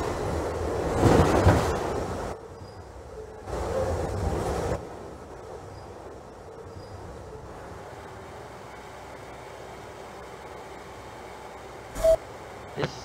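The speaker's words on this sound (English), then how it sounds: "This is a Manhattan bound number 6 local train." NYC subway number 6 local train in Trainz Simulator 2012 running along the line, a quiet steady rumble with louder bursts of noise early on and a sharp click near the end.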